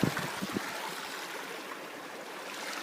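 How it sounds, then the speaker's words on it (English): A partially frozen mountain brook, its open water running between snow and ice bridges, gives a steady close rush and gurgle. A few brief knocks come at the start. "it crosses what is labeled on the AMC maps as Spring Brook. Partially frozen, partially not."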